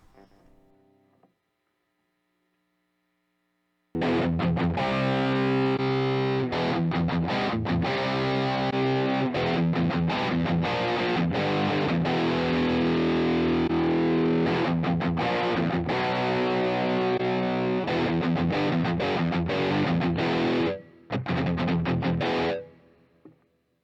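A loud, sustained electric guitar through a Blackback 30 distortion pedal rings out after a brief hum, with dense buzzing chords and short gaps near the end.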